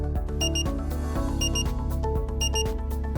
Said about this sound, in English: You will hear a repetitive double beep when charging is complete.